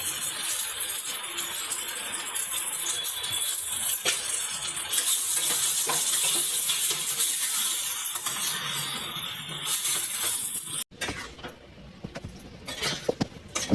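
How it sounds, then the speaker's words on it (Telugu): Taro root pieces coated in chili powder fry over low heat, making a steady soft sizzle with scraping and clinking of a utensil as they are stirred, and the sound drops sharply near the end. "కారం అన్నీ వేసుకున్నాక చక్కగా కలుపుకొని కొంచెం వేగనివ్వాలి."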